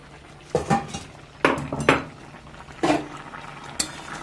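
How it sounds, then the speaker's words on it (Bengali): A metal lid comes off a cooking pot of simmering eggplant with several sharp clanks and scrapes in separate bursts, loud and close, with no talking. "ঢাকনাটা খুলে নিলাম।"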